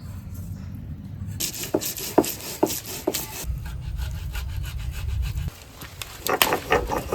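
Soaked poppy seeds and cashews are ground by hand on a stone, giving repeated scraping, rubbing strokes with sharp knocks, near and fairly loud, in a home kitchen with no talking.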